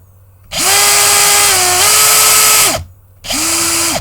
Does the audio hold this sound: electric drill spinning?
yes